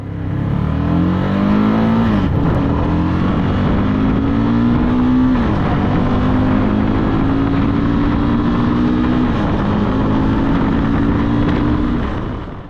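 A Morbidelli MBP N300 single-cylinder motorcycle engine runs and revs with a steady throaty drone, pitch rising and dipping through several gentle swells, loud and close throughout.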